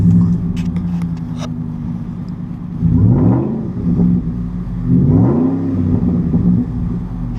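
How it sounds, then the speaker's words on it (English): A Roush Ford pickup's V8 exhaust rumbling at startup: a deep, loud, close idle burble that swells twice into throaty revs before settling back. "So that exhaust, again, a nice V8 rumble"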